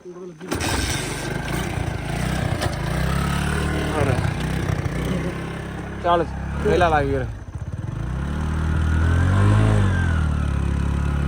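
A small engine sputters, catches and revs up and down nearby, with people talking over the running motor.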